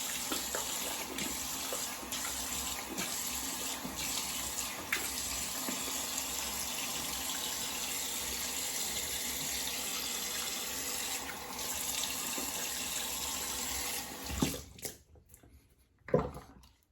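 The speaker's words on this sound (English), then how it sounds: "go ahead and take those glasses off and rinse my face." Tap water runs steadily into a sink while a face is rinsed after a shave, a continuous close splashing flow with brief splashes, then it stops near the end with a couple of final splashes.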